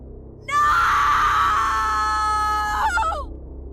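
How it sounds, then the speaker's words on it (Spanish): A woman screams, long and loud, in a Spanish-language techno-horror audio drama. The single sustained cry lasts about two and a half seconds and breaks into a wavering, choked ending. "Gritó desde un lugar donde ya no sabía si era su voz, su cuerpo o su alma."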